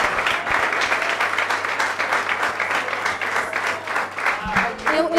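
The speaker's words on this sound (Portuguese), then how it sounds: "Mais aplausos, por favor, ela merece." Audience applause at a live comedy show, steady dense clapping filling the whole stretch, fairly close and loud, with a few voices talking underneath.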